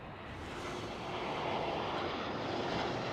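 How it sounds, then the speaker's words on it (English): A KLM Cityhopper Embraer E195-E2 jet passes at Schiphol Amsterdam, a broad engine roar that swells steadily louder over a few seconds, with no voices. "another City Hopper E195 E2 is passing us."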